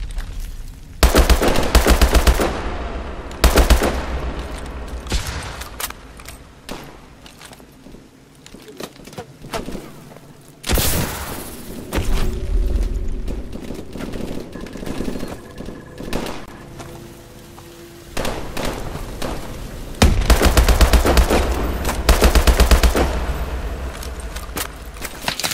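Gunfire in the video game Call of Duty Advanced Warfare: loud rapid bursts and single shots come in waves, mixed with clattering effects and dense battle noise, nearly continuous throughout.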